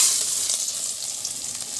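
Onion, ginger, chilli and garlic hit hot oil one after another, giving a steady, close, bright sizzle that hisses continuously without pause and with no talking over it.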